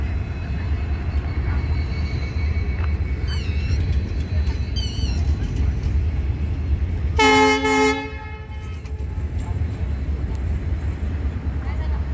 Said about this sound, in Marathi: CRS टेस्टिंगचे जे आहे हे 10 डब्याची गाडी आहे